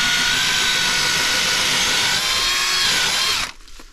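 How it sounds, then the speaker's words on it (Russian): A power drill bores a hole at a diagonal angle, a loud steady high-pitched whine running for about three and a half seconds before cutting off abruptly, followed by faint rustling. "я вот так вот сверлю отверстие под углом,"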